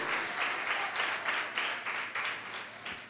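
A church congregation at a sermon breaks into applause, a dense, sustained wash of many hands clapping at a steady level, with no speech over it.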